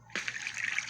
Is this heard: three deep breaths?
no